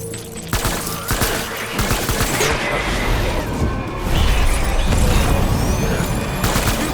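Dense gunfire and crashing impacts in the video game Death Stranding, steady and loud throughout, layered with mechanical clatter and booms.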